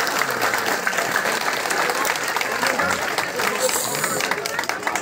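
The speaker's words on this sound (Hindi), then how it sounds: "जोरदार तालियां।" Loud, sustained applause from an audience at a public gathering, dense clapping and crowd noise filling the whole stretch with some background voices mixed in.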